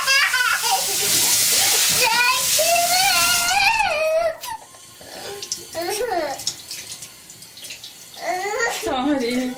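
Tap water runs steadily into a sink as a young girl washes her hands, a loud continuous splashing that stops partway through while a child and an adult talk over it.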